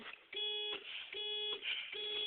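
A car alarm sounds in loud, steady pulses, a bright harmonic tone switching on and off roughly every three-quarters of a second, repeating three times with no voices.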